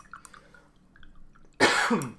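A throat is cleared sharply and then a harsh, close cough follows, loud and alone after a short stretch of quiet background.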